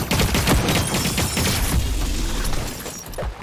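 Dense, loud gunfire and crackling impacts during a firefight in The Cycle Frontier, a continuous chaotic barrage of shots and shattering hits with no clear pauses.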